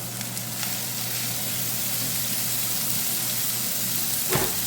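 Rice noodles sizzle steadily in a hot stir-fry pan with green onion, a constant close-up frying hiss with a faint low hum underneath and a brief clatter near the end.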